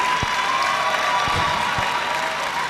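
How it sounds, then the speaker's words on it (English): Sustained crowd applause at a university convocation ceremony for a law graduate, a dense clapping wash with a few louder bursts and faint cheering mixed in, fairly close and continuous. "please clap for him much louder"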